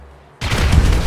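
Fireworks in the video game GTA 5 go off in a sudden loud burst after a quiet moment, a dense crackling boom that keeps rumbling to the end.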